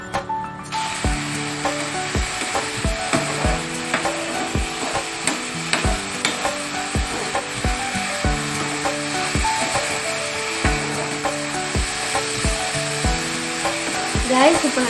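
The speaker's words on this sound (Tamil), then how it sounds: "வத்துற வரைக்கும் நம்ம கிளறி வச்சுக்கிட்டே இருக்கணும்" Carrot halwa thickening with milk in a pan, stirred steadily: repeated scraping and knocking strokes of the spoon against the pan with a soft bubbling sizzle underneath, close and continuous, no talking.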